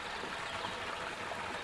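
Small waterfall spilling into a wooden trough, a steady broadband rush and splash of water heard up close with no speech.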